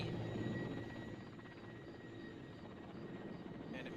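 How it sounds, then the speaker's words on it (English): A helicopter in the military game Arma 2 drones steadily overhead with a dense, continuous rotor and engine rumble that holds at a near-constant level throughout, without any voices. "That helicopter did not spot me"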